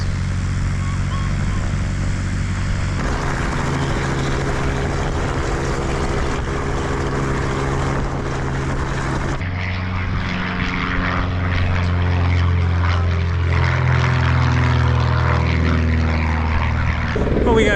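A Piper propeller airplane carrying a couple of passengers flies past at a flight school, its engine drone loud and steady throughout, with the pitch and tone shifting as it passes close by.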